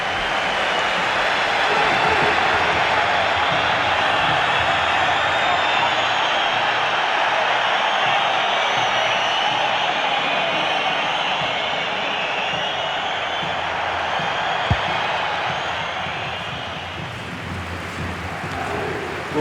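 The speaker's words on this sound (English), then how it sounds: "Well, just listen to this crowd." A stadium crowd roars in a steady, broad wash throughout an EA Sports FC 26 match between Osasuna and Real Madrid, loud and unbroken, with faint speech beneath.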